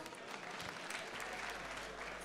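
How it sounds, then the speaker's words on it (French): Audience applause at a French-language award ceremony, a steady wash of clapping from a crowd that holds evenly throughout without fading. "des applaudissements encore"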